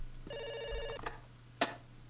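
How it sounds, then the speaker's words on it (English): A telephone bell rings once in a short electronic trill, followed by a brief click, fairly faint and close in an otherwise quiet room. "Let's answer this phone"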